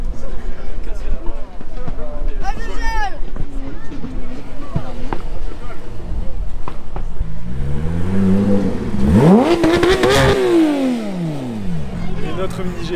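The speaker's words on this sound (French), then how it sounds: "l'ambiance ici, le son des moteurs, c'est juste fou" Modified car engines rev hard at a car show event. Cars pass close by with rising and falling engine notes, and a loud sweeping pass-by comes near the middle. Voices talk over the engines throughout.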